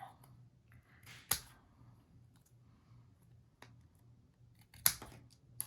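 Scissors make a few sharp, isolated snips, close and fairly loud, separated by quiet stretches over a low steady hum.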